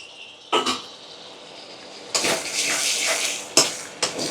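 Chopped tomatoes tipped into hot oil in a pan and stirred: a few clanks of a utensil against metal, then a rushing sizzle that persists under repeated close scraping and knocks.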